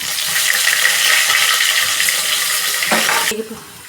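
Spices and mint frying in a hot pan, a loud, steady sizzle with stirring that runs for about three seconds before abruptly dropping away to a quieter texture.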